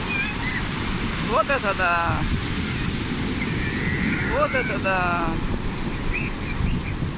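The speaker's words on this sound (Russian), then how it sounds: "Ой, какие волны идут." Big storm waves crash and wash continuously against a damaged wooden pier on the Mediterranean shore at Belek after bad weather. A woman exclaims twice over the steady surf.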